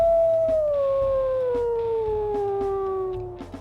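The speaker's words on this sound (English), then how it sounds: "we'll listen to his howls and hear what he sounds like" A gray-furred wolf in the video game WolfQuest lets out one long, clear howl that holds a steady tone and slowly slides downward in pitch, alone and close, before fading out.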